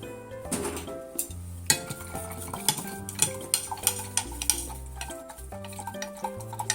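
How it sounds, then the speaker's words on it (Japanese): A spoon stirs cane sugar into hot shiso juice, giving repeated light ticks and clinks against the container in a steady rhythm, with a music bed playing underneath and no talking. "熱いから混ぜたら溶けるでしょう。"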